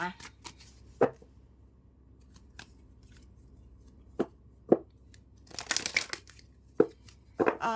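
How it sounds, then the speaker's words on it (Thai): Thai tarot cards being shuffled and laid out on a table: scattered sharp snaps and flicks separated by near-silence, then a dense burst of riffling, with a voice heard briefly. "เดี๋ยวเรามาเปิดไพ่ทาโร่นะคะ"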